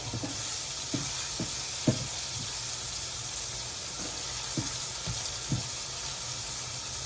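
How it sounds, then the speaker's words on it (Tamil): Tomatoes sautéing in a pan for ivy gourd gravy, giving a steady hissing sizzle with soft, irregular stir clicks and taps scattered throughout, close and even, no talk. "இப்போ தக்காளி வதங்கிட்டது"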